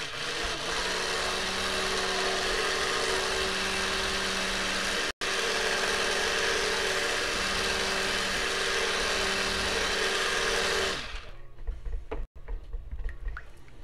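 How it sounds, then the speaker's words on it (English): A steady, loud stick blender whir mixing cold process soap batter runs for about eleven seconds with one brief break, then cuts off, leaving faint clatter and small knocks. "I'm gonna stick blend"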